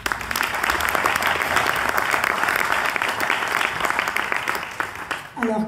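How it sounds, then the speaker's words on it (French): An audience at a ninetieth-anniversary gala in a Cannes hotel applauds the master of ceremonies, a dense, sustained roll of clapping that stays loud throughout before tapering off at the very end. "on peut l'applaudir"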